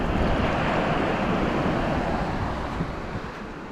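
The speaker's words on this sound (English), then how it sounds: "That's the water pushing in underneath the sandbar." Sea waves push in beneath a sandbar on the Scottish coast at Tyninghame, East Lothian, a broad, continuous rushing wash mixed with wind noise, loud at first and easing slightly toward the end.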